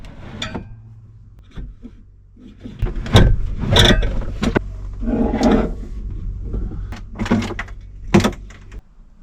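A new bathroom cabinet door opens and closes several times nearby, giving irregular knocks, creaks and short scraping bursts with no talk over them.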